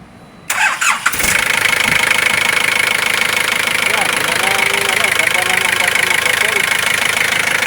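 An Isuzu 4JJ2 diesel engine cranks and catches, then settles into a loud, steady idle with a constant clattering knock throughout, from a piston striking the engine block.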